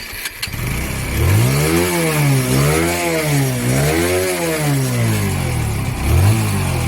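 A motorcycle with a repaired spark plug cap starts up and is revved in repeated rising-and-falling swells, a close, loud, steady engine note with no talk.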